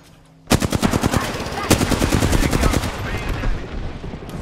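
Automatic gunfire in the video game Apex Legends, a loud rapid burst of shots kicking in suddenly after quiet and hammering on in a fast steady rhythm, with a brief voice line beneath.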